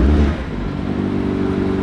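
A McLaren 765LT engine revs hard with a raspy, rough exhaust note, a loud low burst at first settling into a sustained close-up drone.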